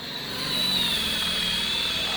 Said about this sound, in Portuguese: Agora tá furando.